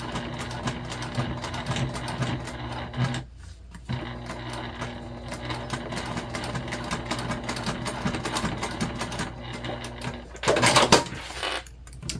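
A sewing machine runs close and loud while going back over a backpack seam on a modified Lindsport Mini Backpack. Stitching hums steadily, with a short pause near the start and a brief clatter toward the end.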